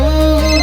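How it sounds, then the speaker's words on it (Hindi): A mobile phone ringtone rings loud and close, a steady sustained electronic tone with no voices over it. "अरे फोन किसका आ गया?"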